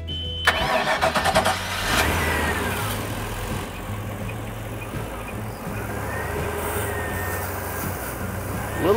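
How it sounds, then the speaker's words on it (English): A boat engine being winterized cranks with a rapid starter whir, catches, and settles into a steady mid-pitched idle that carries on close by. "I'll have Tanya start the engine"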